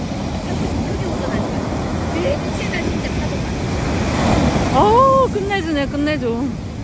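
Rough sea waves crash and wash ashore at night, a loud continuous surf roar with wind buffeting the microphone, and people talk briefly near the end.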